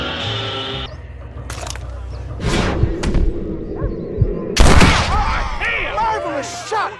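Gunfire in the Red Dead Redemption video game: a few sharp gunshot cracks and thuds scattered through a tense western shootout, mixed with other game effects and background noise.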